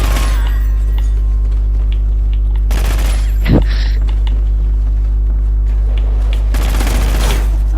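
Suppressed SAW machine gun fire in Call of Duty Ghosts: two short rapid-fire bursts, one near the middle and one near the end, over a constant loud electrical hum.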